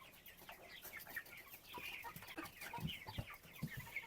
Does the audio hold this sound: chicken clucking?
yes